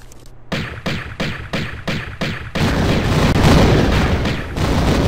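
Explosion in the video game Tomb Raider 1, with a run of five sharp, regularly spaced booms followed by a sustained, loud rumbling roar that fills the rest of the moment.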